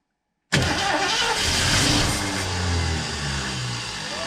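A 1968 Ford Mustang engine that has sat for 30 years fires abruptly out of silence, catching loudly, then settles into a rough, rumbling idle close by.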